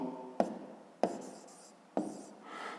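Pen or chalk writing a math expression by hand during a 5th-grade lesson, heard as three sharp taps each followed by a short scratchy stroke, close and fairly quiet, with no talking.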